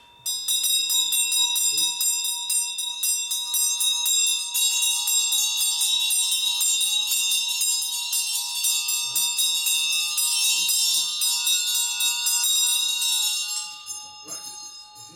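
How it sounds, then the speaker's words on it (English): A Tibetan ritual bell rings loudly and steadily for about fourteen seconds, its bright shimmering tone sustained throughout before fading near the end, with a few soft words spoken faintly beneath it. "how you use the bell"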